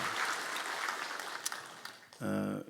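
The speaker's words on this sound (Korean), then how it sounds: "격려의 박수 좀 한번 쳐주라" Fairly faint applause of encouragement from a church congregation during a Sunday service, honoring the children's department teachers. It rolls on for about two seconds before a voice or tonal sound cuts in near the end.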